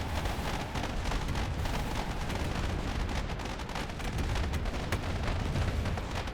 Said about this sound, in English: And lots of continuous missile salvos.